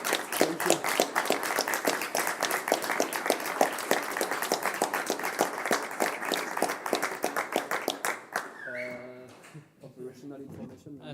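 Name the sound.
audience applause at a conference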